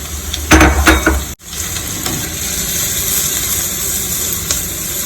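Onions and peppers sizzle loudly in a frying pan, a steady close hiss broken early by a few clatters and one sharp knock before the frying settles back into a continuous crackle.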